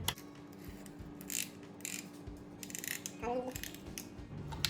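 A piston ring compressor tool is ratcheted tight around an engine piston, giving a few sharp metallic clicks and ratchet rasps in short bursts against a quiet background.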